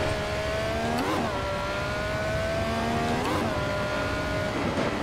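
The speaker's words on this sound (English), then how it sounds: "the backfire" Ferrari 312T engine in a VR racing game, a steady high-pitched droning rev with pitch dips and short crackling bursts from the exhaust, close and loud throughout.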